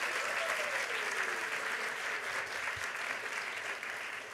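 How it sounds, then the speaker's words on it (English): Steady, fairly faint applause from a school assembly audience, dense clapping sustained throughout without a clear break. "So we'd like to have all of you give them a big round of applause right now for making that possible."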